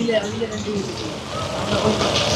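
Steady rain falling during an outdoor meal of chicken and rice served to the poor, a continuous patter with faint thunder-like rumble and voices nearby.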